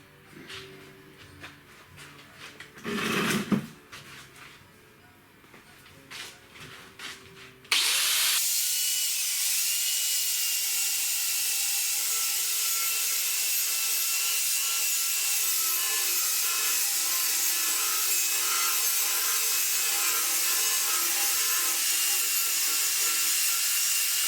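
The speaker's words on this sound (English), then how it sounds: "So, grind up." A power grinder strips paint from a metal card table, starting abruptly after a few quieter knocks and handling sounds, then running loud and continuous with a high, steady whine to the end.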